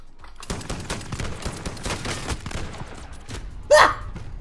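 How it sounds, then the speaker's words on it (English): Automatic gunfire rattles in a shooter video game, rapid repeated shots over a few seconds at moderate loudness, followed by a brief louder sharp burst near the end. "I'm trying to shoot someone, the bullets go everywhere."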